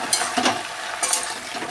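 Leafy greens stirred in a hot frying pan, giving a soft sizzle with a few brief scraping stirs, close and alone with no voices.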